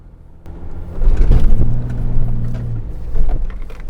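A car set to four-wheel drive during a vehicle recovery pulls away, its engine rumbling up loudly and close with a steady drone, then easing and surging again near the end.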